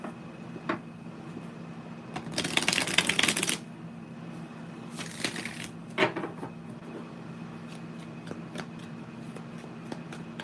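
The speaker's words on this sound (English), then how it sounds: "Let me shuffle these real good." Tarot cards being shuffled by hand, a dense riffling burst followed by a shorter second burst and a few light taps, fairly close over a quiet background.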